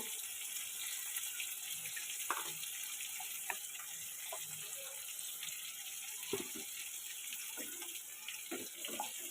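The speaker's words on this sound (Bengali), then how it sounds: "তার জন্য অল্প করে জল দিলাম" Water poured from a vessel into a pan of fish curry masala made with rohu, a soft steady trickle and splash with a few clinks, close by and alone without talk.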